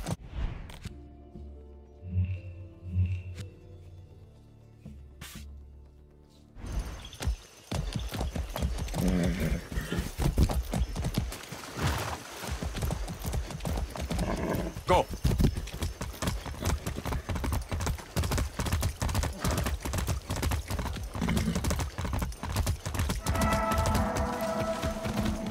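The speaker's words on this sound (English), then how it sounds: "That's a good horse." Rapid hoofbeats of a horse in Far Cry 6 pound in a steady galloping rhythm, loud and close, after a quieter opening with music-like tones.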